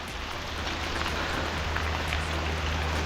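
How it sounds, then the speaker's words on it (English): Heavy rain falls steadily on a downhill cycling route between Gerik and Jeli near Royal Belum, a dense, even hiss that stays loud and unbroken throughout, with no voices. "Okay, it's raining."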